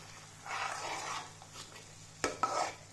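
Onion paste being stirred in a pan, a soft, low sizzle with gentle scraping and two sharp utensil clinks near the end, quiet and close.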